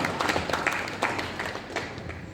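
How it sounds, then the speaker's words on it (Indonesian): An audience claps together at a Quran memorization graduation ceremony, giving a dense, steady patter of many hands that holds for the whole stretch without a break. "Ya, beri tepuk tangan."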